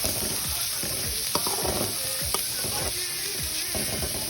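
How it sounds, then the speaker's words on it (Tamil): Onions with curry leaves sizzle steadily in a hot pan, with occasional scraping and stirring knocks from a utensil; no one speaks. "இதை நல்லா வதங்கட்டும். நல்லா வதக்கி விடுங்க."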